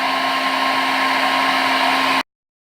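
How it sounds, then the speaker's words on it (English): An overheating hair dryer, used to separate a phone's LCD from its glass, blows with a steady, loud whine and broadband rush, then cuts off abruptly, leaving silence. "I had to turn off the hair dryer because it was overheating"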